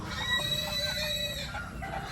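Chickens cluck softly in a farm pen, a few scattered calls heard fairly close over a low, even background murmur.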